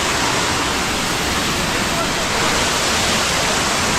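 A monsoon-swollen waterfall near Usgao Dam and Vajreshwari in Palghar roars loudly and continuously, a thick, unbroken rush of falling water close by.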